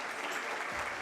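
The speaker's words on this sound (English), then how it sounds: "Let's give all of our sponsors a round of applause." An audience at a formal evening gala breaks into steady, dense applause, a continuous wash of many hands clapping throughout the short moment.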